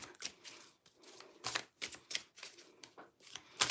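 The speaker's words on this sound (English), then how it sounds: "just going to give him another shuffle." A deck of tarot cards is shuffled by hand in a quiet room, giving a quick series of crisp, close riffling bursts with short gaps between them.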